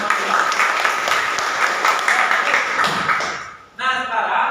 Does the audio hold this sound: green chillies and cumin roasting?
no